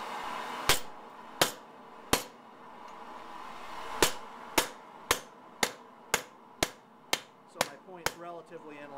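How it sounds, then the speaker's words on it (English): A blacksmith's hammer cutting through thin metal on an anvil, a series of about twelve sharp ringing strikes, spaced irregularly at first then quickening into a steady rhythm, close and loud, with a brief voice at the end. "I'm using my nasty hammer because I'm cutting through a thin piece of metal."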